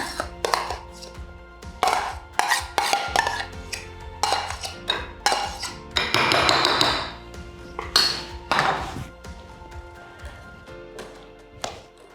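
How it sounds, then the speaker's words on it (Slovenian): A spoon tapping and scraping against a bowl while whipped cream is gently folded into a yogurt mixture, irregular clinks and pings with a short swishing stir in the middle. "Sedaj mešam rahlo, da ne izgubim volumen."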